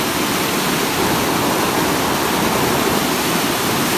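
Steady, loud rush of green river water flowing at a fishing spot in Thailand, a dense continuous broadband roar with no pauses, close by and unbroken by talk.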